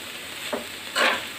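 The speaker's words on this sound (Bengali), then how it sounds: "এখন আবারও 2-3 মিনিট নেড়ে চেড়ে নামিয়ে নিব" Mixed vegetables with egg and roasted cumin powder are stirred in a frying pan, a low sizzle broken by two short scraping strokes of the spatula, close and without speech.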